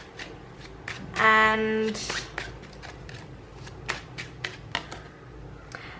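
Tarot cards are drawn from the deck and flicked down in a run of quick, light snaps and shuffling slides, close by and interrupted by a short burst of a voice.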